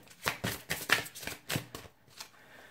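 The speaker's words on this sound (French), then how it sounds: "je vais remélanger le jeu" A deck of cards being shuffled in several quick bursts of riffling, close and fairly quiet, with short pauses between and no talking.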